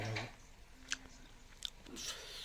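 Quiet close-up chewing while tasting dal (a lentil dish), with soft, wet mouth sounds and a few small crunchy bites spread over a couple of seconds, faint and without talk.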